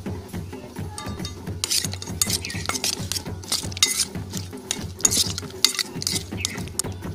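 Jackfruit and chicken being mixed by hand with mustard oil, salt and spices in a bowl, a busy run of wet squelching, rubbing and clinking strokes, close and irregular, with no talk.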